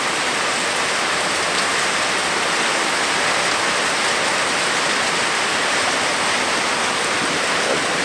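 Heavy rain pours down steadily and loudly, a dense unbroken hiss close by with no voices or other sounds breaking through.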